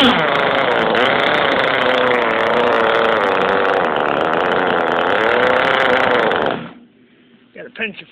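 A Jetstream 1000 motor runs loud and steady with a droning, buzzing tone for several seconds, then cuts out abruptly, leaving a few faint clicks and knocks.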